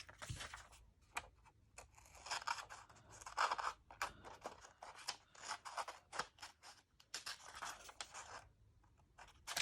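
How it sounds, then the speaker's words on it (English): Scissors snip away excess paper from a papercraft project after it is pressed with a bone folder, a quick series of close, crisp cuts and slides repeating across the stretch with no talking. "I'm going to flip it over and cut off the excess."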